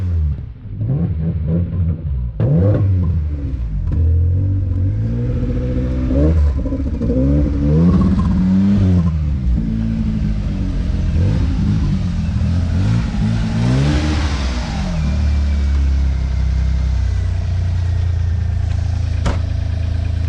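A gold Vauxhall Astra CDX runs with its engine close by, revving up and down in uneven surges over a steady rumble, with no talking.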